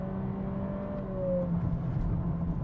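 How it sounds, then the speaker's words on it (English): Engine of a 2025 Acura ADX compact SUV downshifting in sport mode, a steady close cabin drone whose pitch slides down briefly before the revs rise again, with no talk. "And it downshifted in sport mode."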